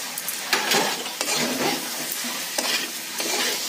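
Potatoes sautéed in a pan, with a crackling sizzle under repeated rhythmic stirring scrapes and clicks of a spoon, close and fairly loud, with no talk.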